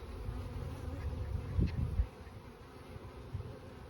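A package of honey bees buzzes in a low, steady hum, with one insect briefly droning louder and closer before fading back into the swarm.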